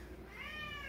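A pet cat lets out one short, clear meow close by, alone with no talk around it.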